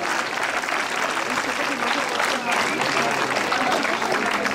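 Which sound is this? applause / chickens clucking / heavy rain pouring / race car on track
applause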